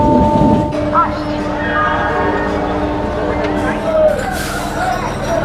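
A train rumbles and rattles as it slows into Sheoraphuli station near Kolkata, crowded with Tarakeswar Shravan pilgrims, with a horn-like tone and a busy crowd murmuring throughout.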